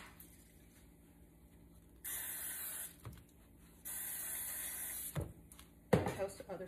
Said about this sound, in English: I'm just going to use the spray butter